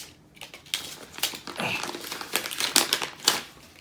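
Paper packing pulled from a mailed envelope of trading cards crumples and rustles close up, a steady run of crinkly bursts and crackles with no talk over it.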